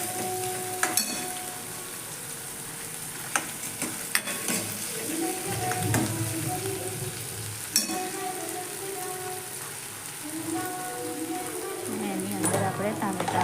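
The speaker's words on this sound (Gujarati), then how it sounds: "ડુંગળીનો કલર બદલાય ત્યાં સુધી સાતળી લઈશું." Chopped onions sauté in a pan for a dried pea curry, giving a steady close frying sizzle with occasional stirring scrapes, while a voice speaks over it.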